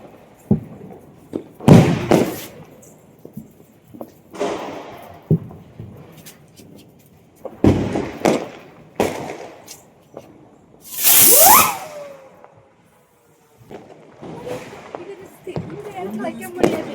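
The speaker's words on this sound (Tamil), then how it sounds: "அந்த பட்டர்ஃப்ளை பட்டாசு வந்து என் ஹஸ்பண்ட் தான் வைக்க போகிறாங்க." A butterfly firecracker hisses loudly with a whistling, spinning sound amid scattered pops and thuds during Diwali, with people talking nearby before and after.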